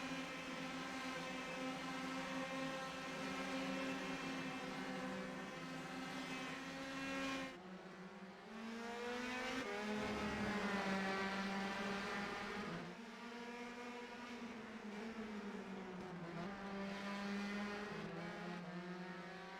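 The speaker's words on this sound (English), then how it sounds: "16 of David Bialois has gone off and into the tires." Race cars lapping a racing circuit during a Grand Prix of Ohio round, with loud engine drones shifting pitch as the cars accelerate, brake and pass close by.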